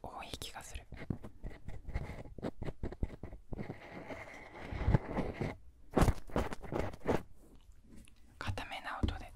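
Binaural ASMR ear cleaning with a sharp-tipped cotton swab: close, crisp scratching and rubbing bursts in irregular clusters, with brief quiet gaps between strokes, intimate and fairly soft.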